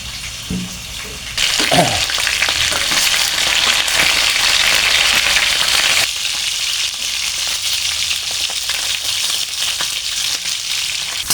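Sliced eggplant fries in a pan with a steady, loud hiss and sizzle that swells sharply as pieces go in, then continues evenly at a slightly lower level.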